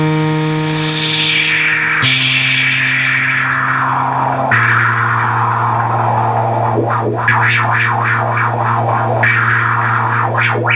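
Minimoog synthesizer with oscillator and noise mixed through its filter, a loud sustained drone stepping down in pitch as the filter closes, then warbling sweeps and wobbles near the end, no voices.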